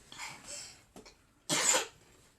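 Several quiet coughs nearby: a couple of soft throaty ones, a short catch, then one harder, louder cough near the end.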